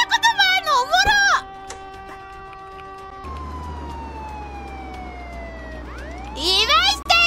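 Police car sirens wail in the video game Contraband Police, a long steady tone with rising sweeps toward the end, heard between bursts of excited talk from a player at the start and finish.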